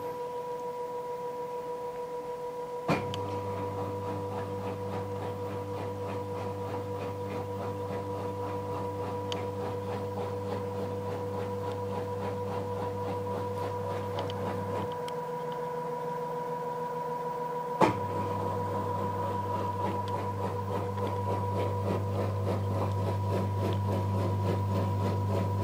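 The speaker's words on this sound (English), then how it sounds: "that's now spinning at 400 RPM, and it's so quiet, it really is." LG FH4U2TDN2L washing machine spinning at 400 RPM, a quiet steady low hum with a faint whine above it. The hum drops out briefly midway before resuming, and a couple of faint clicks break the otherwise constant sound.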